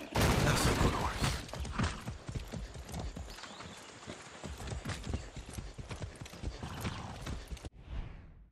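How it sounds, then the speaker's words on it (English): Horse hooves clip-clopping in the video game Far Cry 6, a loud close steady rhythmic gait of hoof strikes with occasional creaks of tack, continuing throughout before an abrupt cut. "That's a good horse."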